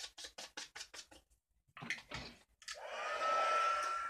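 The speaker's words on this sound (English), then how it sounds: "Let's hit this with the heat tool real quick." A handheld heat tool switches on and blows with a steady whirring hiss to dry distress ink, following a run of quick tapping sounds, close and fairly quiet.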